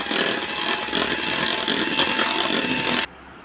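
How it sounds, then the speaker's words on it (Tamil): An electric mixer whips cream in a bowl, a loud steady whirring buzz with a faint scraping rattle, cutting off abruptly just after three seconds. "இப்போ நல்லா பீட் பண்ணிக்கலாம்."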